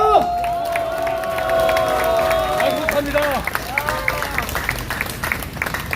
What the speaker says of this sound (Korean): 애국활동과 부정선거 투쟁에 더욱더 열심히 매진하라고 큰 박수 부탁드립니다.